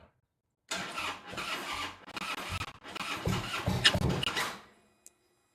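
Harley-Davidson fuel-injected motorcycle engine cranking on a weak battery without starting, several loud grinding starter bursts with brief pauses, ending in a faint click.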